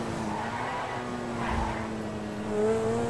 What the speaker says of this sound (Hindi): फिसल रही है गाड़ी।